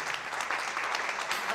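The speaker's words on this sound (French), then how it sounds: "On applaudit." Quiz-show audience applauding after a music quiz answer, a steady broadband patter of many hands that stays loud and even from start to finish.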